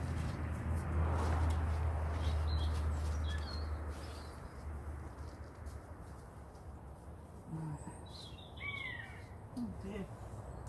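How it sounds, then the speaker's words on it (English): Outdoors, crows caw faintly in the distance over steady wind-like background noise, with a few scattered higher red kite calls later on. "We've got the crows, and the other noise is the red kites."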